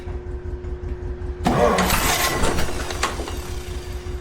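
John Deere tractor engine cranking over and catching after a brief quiet stretch, then settling into a rough, steady running rumble close by.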